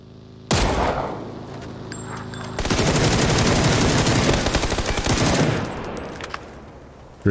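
Gunfire during a PUBG match at a bridge: a sharp opening shot, then a long stretch of rapid, loud automatic bursts that fire continuously for several seconds before easing off.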